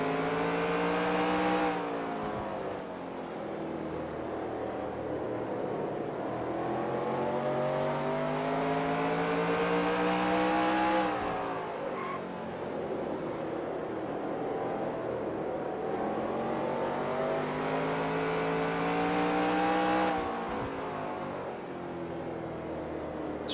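An ARCA stock car engine in the NR2003 racing game drones loudly and steadily, its pitch climbing through long upshift sweeps and dropping sharply at each shift, with nearby cars passing and no talk.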